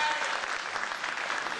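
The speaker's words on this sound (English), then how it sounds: "I think we should all give a big round of applause to all the cabinets for this remarkable performance." Audience applause at the grand finale of a youth president competition in Ghana, a steady, dense clapping from a large crowd lasting the whole moment without letting up.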